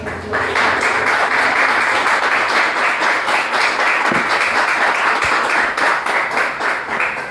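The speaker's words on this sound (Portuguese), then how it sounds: "Aplauda Jesus e deixa." A church congregation claps steadily through a Tuesday sermon, a dense, even wash of many hands that holds at full strength from start to finish with no voices.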